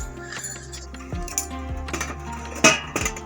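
A lid is set down on a pot of sambar with scattered metallic clinks and rattles, then a sharp bright clank near the end.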